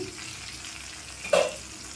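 Onions frying in a covered pan for a pumpkin and tomato curry make a soft, steady sizzle, with a brief louder hiss near the end and no talking.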